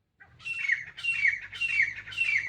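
Birds chirp near a large tree with half-white, half-green leaves, giving four repeated bursts of bright, close calls in a steady rhythm with no talking.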